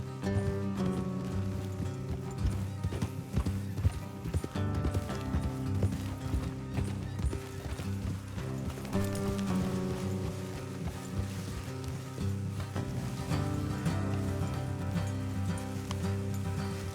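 Steady clip-clop of horse hooves in Red Dead Redemption 2, continuous and fairly loud, woven into a busy bed of music and ambient sound.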